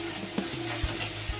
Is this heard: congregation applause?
no